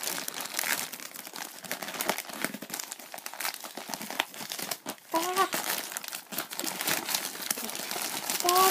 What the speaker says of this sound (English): I'm kind of just tearing it.